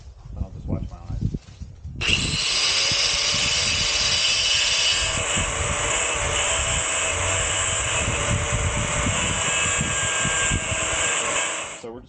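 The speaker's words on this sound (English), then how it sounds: "I'm going to grind these off." An angle grinder cuts the pins off a motorcycle chain during a sprocket and chain upgrade, a loud, close, continuous high-pitched whine and scrape running for about ten seconds after brief handling noise.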